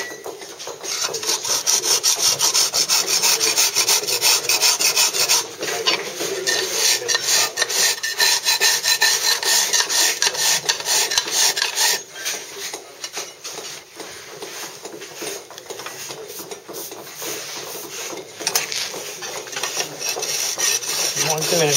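A stonemason drags a stone's end along a cut line to bring it right down, producing a steady, loud, continuous grinding rasp that eases briefly partway through, with no talking.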